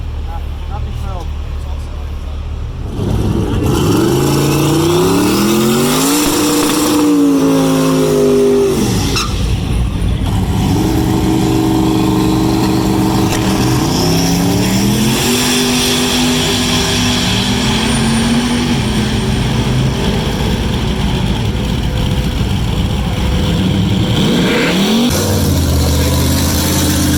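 A twin-turbo C8 Corvette at speed on a race track, its engine note climbing and falling through repeated acceleration and shifts, loud and close for most of the stretch after a quieter start.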